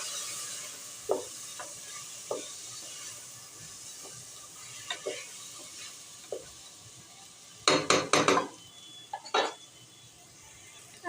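A spoon stirs washed rice into masala in a cooking pot for masale bhat. Quiet scrapes and taps come at irregular intervals over a low background, with a brief cluster of sharper metallic clinks partway through and no talking.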